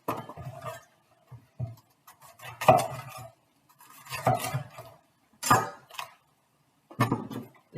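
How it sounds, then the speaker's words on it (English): A knife working through a cabbage to cut out its heart for sauerkraut: a series of separate crunchy cuts and thumps against a board, irregularly spaced with short pauses between, close and fairly loud. "We're going to cut out the heart."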